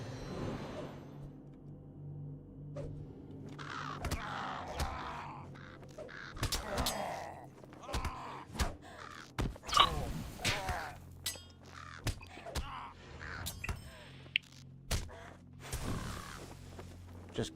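Birds cawing in the fantasy online game Lord of the Rings Online, with harsh repeated calls mixed with sharp combat thuds and clinks in a busy, steady game soundscape, with no talking.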